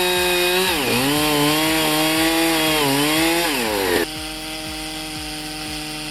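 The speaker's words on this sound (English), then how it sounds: "Standard chainsaw, a Granberg frame, and suddenly it's a portable sawmill." A standard chainsaw mounted in a Granberg frame sawmill rips lengthwise through a log to cut planks, its engine droning loud and steady with shifting pitch under load, then dropping to a lower, quieter run.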